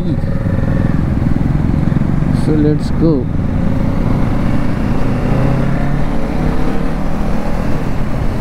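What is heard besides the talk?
motorcycles riding: Dominar 400, Royal Enfield 650 GT, Duke 390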